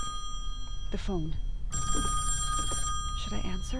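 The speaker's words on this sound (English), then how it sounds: "The phone." A telephone rings inside the horror video game Song of Horror, a steady electronic bell tone running under a man's spoken remarks and tense game ambience.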